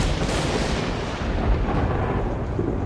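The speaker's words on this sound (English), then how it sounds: "the ever-present risk of a climber's nightmare, an electrical storm" Thunder from an electrical storm over Yosemite rolls loud and close, a sustained deep rumble that swells and lingers without a break, with a faint wash of rain beneath it.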